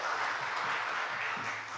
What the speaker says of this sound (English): can you guys give these kids a huge round of applause for being brave enough to come up here?